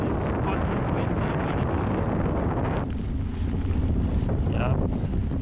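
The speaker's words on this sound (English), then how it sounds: "And it's fucking windy." Strong gusting wind buffets the microphone while cycling in rainy weather in the Netherlands, a loud continuous low roar and rumble that eases briefly midway, then surges back.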